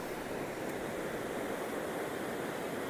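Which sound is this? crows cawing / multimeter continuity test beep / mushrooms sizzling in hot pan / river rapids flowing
river rapids flowing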